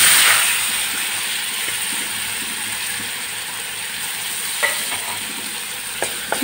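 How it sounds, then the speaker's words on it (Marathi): Finely chopped onion frying in oil with asafoetida, turmeric and garlic, giving a steady soft sizzle with a few faint clicks of a spoon near the end. "कांदा थोडासा तेलामध्ये परतून घ्यायचा अगोदर"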